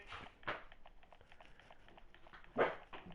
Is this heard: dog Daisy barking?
yes